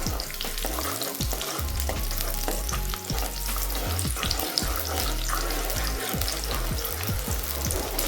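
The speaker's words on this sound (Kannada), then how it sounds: "ಈರುಳ್ಳಿ ಫ್ರೈ ಆಗಲಿದೆ" Onions fry in oil in a pan for a chicken sukka, a dense, loud crackling sizzle that runs the whole time, close up, with occasional stirring scrapes and no talk.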